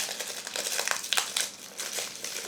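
The plastic wrapper of a Korean trading card pack crinkles and crackles in dense, irregular bursts as it is torn open, close and fairly loud, with no talking.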